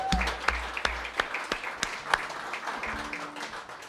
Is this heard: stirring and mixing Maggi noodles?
no